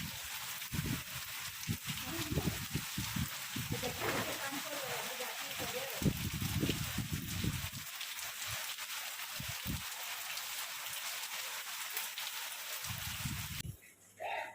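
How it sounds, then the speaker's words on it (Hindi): Heavy rain pours outside with a dense, continuous hiss throughout, while someone talks over it for much of the time before the sound briefly cuts away near the end. "मैं दिखाती हूँ कितनी ज़ोर से बारिश हो रहा है।"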